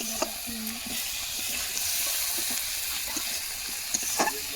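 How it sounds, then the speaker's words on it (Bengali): Tomatoes and spices fry in oil in a pan for a Malabar spinach, potato and fish head curry, giving a steady close sizzle with occasional stirring scrapes throughout and no talk. "টমেটোটা এখন ভালো করে কষানো অবধি লাড়তে হবে"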